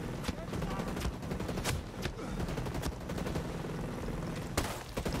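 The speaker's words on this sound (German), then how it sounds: "Er hat eine Minigun." Heavy automatic fire from a minigun in the video game Ghost Recon Breakpoint, a dense continuous rattling barrage that stays loud for the full length, with brief sharper bursts on top and a voice talking underneath.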